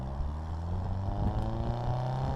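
A 1959 Bugeye Sprite with a Datsun 210 five-speed gearbox drones steadily on a test drive, its engine holding a continuous hum with harmonic tones and no voices.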